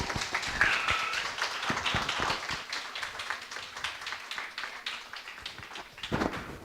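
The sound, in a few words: audience applause for a seminar speaker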